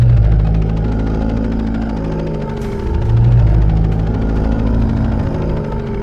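A helicopter in a 3D animated action scene gives off a loud, steady rotor and engine drone that swells slightly partway through, with no talking over it.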